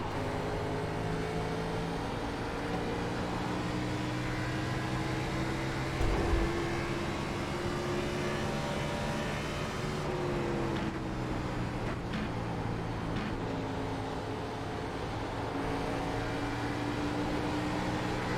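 A simulated NASCAR race car in the iRacing game drones loudly and continuously, its engine tone sliding up and down as the throttle comes on, with a steady rush of background noise.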